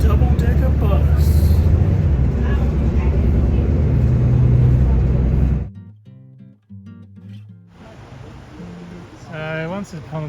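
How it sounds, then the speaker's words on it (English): A Chinese-made double-decker bus cruises through the streets of Skopje, its engine rumbling loudly and continuously for several seconds before dropping away, followed by quieter traffic and someone talking. "Cruising the double-decker bus."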